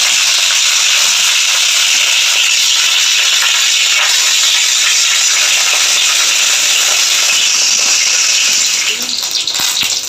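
Dried red chillies and curry leaves sizzling in hot oil, a loud, steady bright hiss that holds unbroken throughout and eases slightly near the end.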